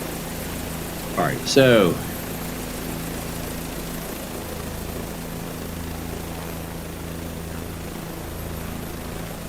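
An airplane propeller engine drones steadily in a flight video game, a constant mid-pitched hum throughout; someone speaks briefly near the start over it.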